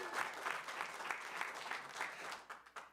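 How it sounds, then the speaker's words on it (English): Residents clapping out in the lobby during a city council meeting: faint, distant applause with rhythmic surges of hands that thins out toward the end. "all the people out in the lobby who you can hear clap at every delayed point that they agree with"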